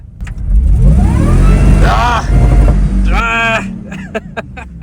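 A voice imitates a Hummer's engine, a rising and falling revving growl with a few sharp clicks at the end. Loud and close, with the people on a trip in Georgia.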